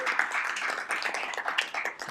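Applause for a committee staff member during a legislative committee session: a modest group claps in a steady, scattered patter, moderately faint, for about two seconds.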